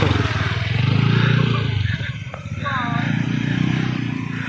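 A dirt motorcycle labours on a slippery, muddy trail on the way to a volcanic crater. The engine drones loud and close, dips briefly, then pulls again amid clattering and faint voices.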